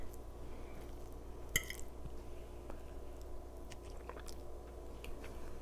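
Someone chews a bite of warm homemade holiday stuffing made with sausage, apple, celery and onion, giving soft, wet, squishy mouth sounds at close range over a steady low background hum.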